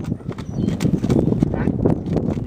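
Hooves of a young registered Rocky Mountain horse clip-clopping in a quick, uneven gait, mid-distance, with a voice talking over the hoofbeats.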